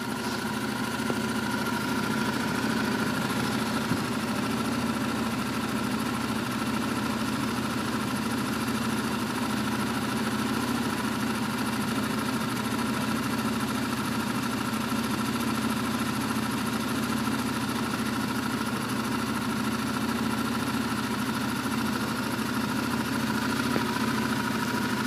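A 2006 Buick Rendezvous with the 3.5 V6 idles steadily for the whole stretch, a smooth, even engine drone with a constant low hum and no revving or voices.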